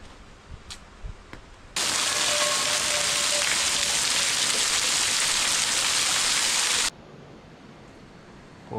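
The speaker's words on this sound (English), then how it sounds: "And it's just started raining again." Rain drums on a tarp on a Scottish beach: a loud, steady hiss that starts abruptly, holds for about five seconds, then cuts off, leaving quiet outdoor ambience.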